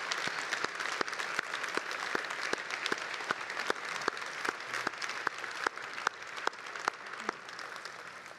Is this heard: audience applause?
yes